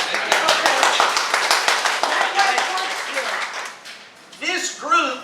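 A crowd at a local civic meeting in Clarksville, Tennessee applauds with brisk, dense clapping that gradually thins and fades, followed by someone speaking.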